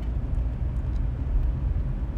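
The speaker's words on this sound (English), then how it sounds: "All right, I'm in the car now." Inside a moving car, a steady low road rumble and engine drone fill the cabin, continuous and fairly loud, with no talking.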